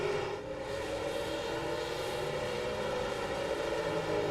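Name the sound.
race car engine in a racing video game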